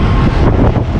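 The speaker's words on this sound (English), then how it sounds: "It's still windy." Wind buffets the microphone during a road trip near Ridgeway, Wisconsin, giving a loud, rough rumble with gusty surges over one brief second.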